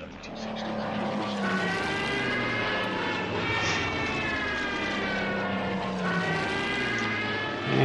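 Propeller aircraft engines in the WWII strategy game Order of Battle drone loudly and steadily, with layered tones that rise and fall slightly as planes pass, alone without talk.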